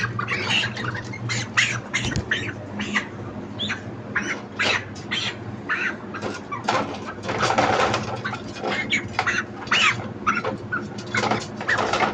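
Dense flock of broiler chickens, 35 days old and about 2.6 kg, squawking and clucking continuously inside a poultry farm house, many overlapping calls near and far over a steady low hum.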